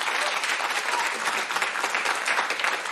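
Studio audience applauding during a French televised political broadcast, a steady, dense burst of clapping that holds at full strength throughout without pause.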